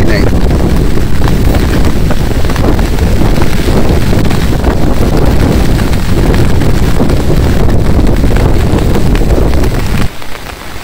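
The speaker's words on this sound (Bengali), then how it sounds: "এখন অবশ্য বৃষ্টি চলে গেছে, বাতাস বৃষ্টি, মানে বাতাস প্রচুর" Strong wind gusting after a storm in a Bangladeshi village, a loud, constant roar buffeting the microphone for about ten seconds before easing slightly at the end.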